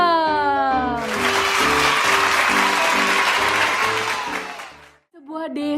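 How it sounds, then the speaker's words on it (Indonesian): Kindergarten children clapping together in a classroom, a dense burst of applause lasting about four seconds that fades out, framed by music before and after. "Tepuk tangan dulu dong"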